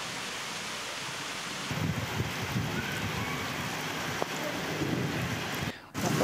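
Steady heavy unseasonal rain hisses without a break, with a low rumbling swell of distant thunder partway through and a brief dropout near the end.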